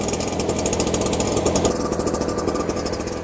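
A Cifarelli L3EDA power mist sprayer's small two-stroke engine runs steadily at high throttle, a loud, continuous buzzing drone with a rapid pulsing rattle and no voices.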